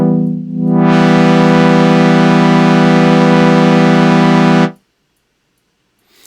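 Single held synth note from the Reason Europa software synthesizer, swelling in quickly, sustaining loud and steady for about four seconds, then cutting off abruptly instead of fading through its release.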